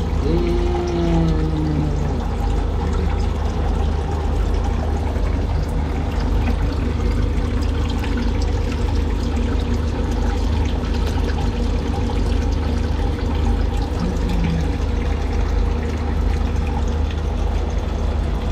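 Water falls in a steady, continuous splashing rush, loud and close throughout, with faint tonal hums underneath and no speech.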